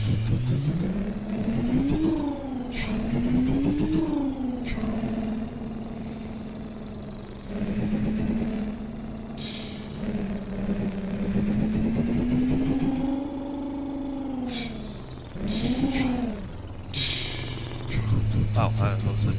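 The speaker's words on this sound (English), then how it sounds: "now we'll start off with starting up the engine" Kenworth W900 truck engine in a trucking video game, idling and then revving up and down repeatedly, a deep rumbling drone that rises and falls in pitch, with someone talking over it at times.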